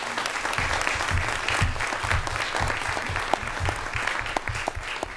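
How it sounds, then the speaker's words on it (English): Sustained audience applause at a school board meeting, with a dense wash of many hands clapping steadily throughout, moderately loud with no speech over it. "I think that gets a big round of applause."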